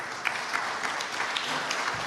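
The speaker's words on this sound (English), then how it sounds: "give them a round of applause" Audience applause at an Earth Day gathering, a short burst of clapping at moderate level with voices mixed in.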